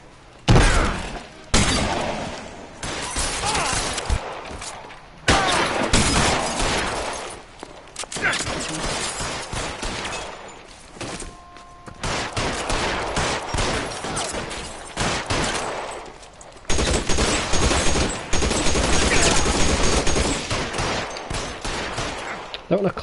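Gunfire from a newly picked-up gun during a shootout in the LA Noire crime game, heavy volleys of shots and breaking glass in bursts separated by brief lulls, loud and near, with shouted voices at times.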